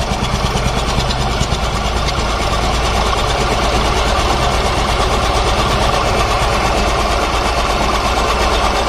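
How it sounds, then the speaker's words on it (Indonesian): An engine idles at a steady, loud, continuous drone with its exhaust pipe covered, giving an even rumble with fine rhythmic pulsing and no voices. "Kita tutup knalpot."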